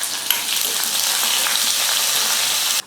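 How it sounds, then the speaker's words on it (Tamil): Finely chopped small onion goes into hot oil in a pan while cooking greens, producing a loud, steady, close sizzle that holds evenly and then stops abruptly. "இந்த வெங்காயத்தை சேர்த்துக்கிறேன்."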